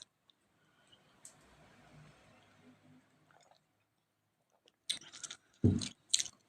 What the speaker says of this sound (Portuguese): Eu vou beber água.